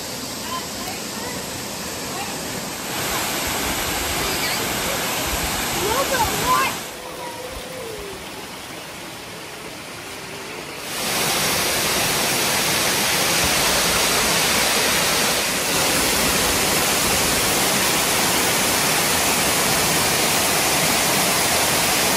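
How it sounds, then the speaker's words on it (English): Twin Falls tumbling into a winter ravine of ice-coated bluffs, a steady broadband roar of falling water that dips quiet for a few seconds midway, then swells louder and holds constant to the end. "the Twin Falls right there"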